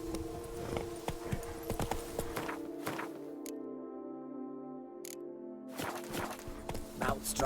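Roach, a horse in The Witcher 3, clip-clops with steady hoofbeats under game music, then the steps pause briefly before resuming at a moderate, fairly close level.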